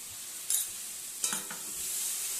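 A spice masala with cumin powder mixed in a little water is stir-fried in a pan, a soft steady sizzle broken by two or three brief louder stirring scrapes, close and without talk.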